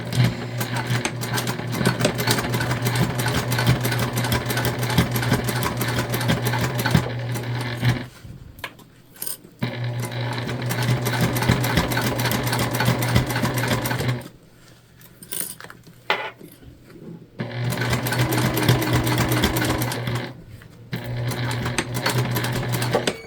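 A sewing machine stitches along the edge of a Family Dollar holiday placemat being sewn into a reusable gift bag, a loud steady motor whir running in long bursts with brief pauses between seams.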